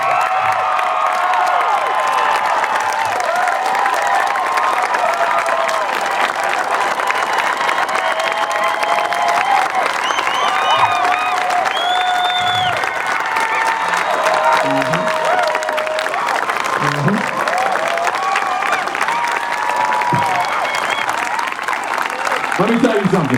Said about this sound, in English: give her the loudest round of applause in the fucking world